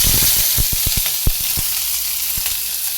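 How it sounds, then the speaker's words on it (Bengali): Chopped onions with black cumin fry in oil in a loud, close, steady sizzle, punctuated by a quick run of sharp clacks from stirring early on and a few later. "এবার ভালো করে নাড়াচাড়া করে একটু হালকা করে ভেজে নেব"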